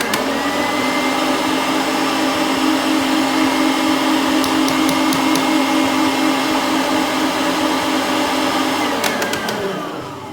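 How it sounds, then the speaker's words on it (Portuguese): An electric stand mixer whirs at a raised speed while beating cake batter, a loud, steady motor hum held nearly unchanged for ten seconds before fading slightly as it winds down, with faint clinks partway through. "Agora eu aumento um pouquinho a batedeira."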